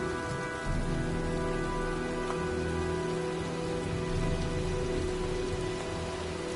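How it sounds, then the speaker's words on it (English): Steady rain falls in the video game Heavy Rain, a dense continuous patter on surfaces with a constant low background hum. "Well, looks like a storm's coming."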